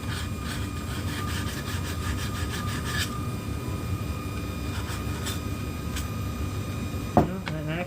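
Rhythmic scraping strokes of sanding and smoothing a shed moose antler, steady rasping back-and-forth friction up close, with a sharp knock near the end.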